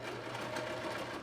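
A sewing machine runs steadily while stitching a cotton face mask, its rapid needle chatter loud and close for about a second with no voices.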